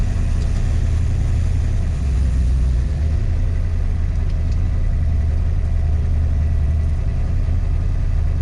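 A 1966 Ford Mustang fitted with a new Blueprint 347 stroker V8 idles steadily, a deep, even rumble that holds throughout at close range with no talk.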